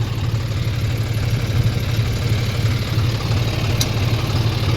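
A tractor engine idles in a steady, low, continuous rumble close by with no talk, the drone unchanging throughout.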